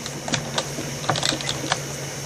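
Fingers tap quickly on a tablet screen, a short run of light, irregular clicks at close range over a steady hum, with no talking.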